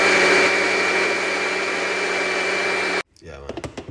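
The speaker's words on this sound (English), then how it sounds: "We're gonna blend it up now." A countertop blender whirs loudly and steadily for three seconds while blending turmeric, orange, black pepper and water, then cuts off abruptly as a voice begins talking.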